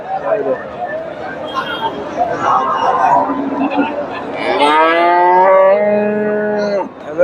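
Cows low in long, drawn-out moos at a rainy cattle market selling dairy cows, following a stretch of crowd chatter and babble from people nearby.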